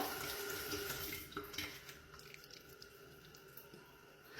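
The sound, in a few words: washing off foam with running water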